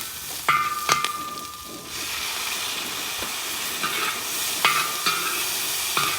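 Shrimp fried rice stirred in hot oil, a steady sizzle and hiss with a few sharp scraping clinks of the utensil against the pan at intervals, close and moderately loud.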